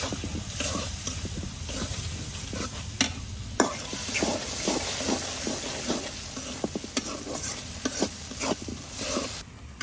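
Shrimp with turmeric and spices being stir-fried in a pan, a steady hissing sizzle overlaid by frequent rhythmic spatula scrapes and taps against the metal, close and fairly loud with no talking.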